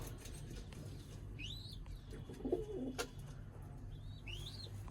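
Faint pigeon sounds with a soft cooing, brief wing flutters and a couple of rising chirps against a low background hum.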